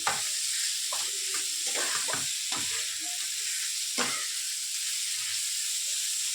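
Jackfruit curry with chopped tomato stirred in a hot pan, a continuous loud sizzle and hiss with a handful of scraping spoon strokes early on, then mostly steady frying, no voices.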